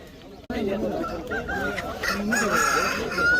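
Aseel roosters crow at a weekly Monday poultry market at Hindiganala H Cross, with several drawn-out calls rising over a steady crowd murmur and people talking nearby.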